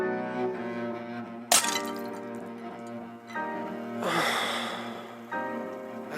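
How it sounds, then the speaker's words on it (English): A window pot smashes during window cleaning: a sharp crash and brief breaking burst, later a longer rattling, shattering noise over a continuous background tone. "I've just smashed her window pot."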